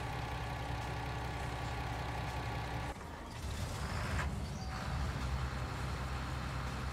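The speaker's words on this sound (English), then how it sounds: "That's the nice sound of an older diesel engine." An older diesel engine idles in Farming Simulator 19, a steady low rumble with a constant hum that shifts briefly midway, then settles back into an even drone, moderately quiet with no talk.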